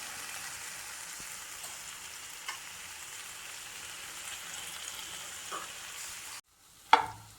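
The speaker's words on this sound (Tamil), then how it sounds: "நல்லா ஒரு 3 நிமிஷம் நல்லா கிண்டிட்டேன்" Black chickpea sundal is stirred and sautéed in a pan, giving a soft, continuous sizzle with occasional scraping taps of the spoon. The sizzle cuts off near the end, followed by a brief louder clatter.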